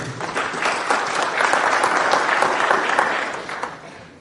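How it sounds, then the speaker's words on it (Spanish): Applause from a conference audience welcoming a speaker, a dense, steady wash of many hands clapping that swells and then tapers off over about four seconds, with no one talking over it. "Recibámoslo con un fuerte aplauso."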